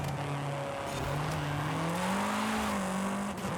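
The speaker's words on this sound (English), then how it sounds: "Kind of sounds like a turbo rally." A steady, droning turbo four-cylinder race engine in Forza Horizon 5 holds a rising and falling pitch as it revs, loud and continuous throughout, with no talking.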